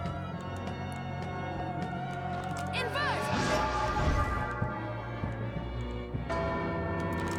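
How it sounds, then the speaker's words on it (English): A struck bell in the video game Bloodstained: Ritual of the Night rings out with a loud, sustained metallic clang that lingers over the game's background music. "let's really ring this bell"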